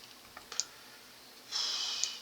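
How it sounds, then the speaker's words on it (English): Computer mouse clicks and a short burst of keyboard typing at a desk, a few faint close clicks followed by a brief rattle of keys, no talk. "you click in here, you click out, just type VB again"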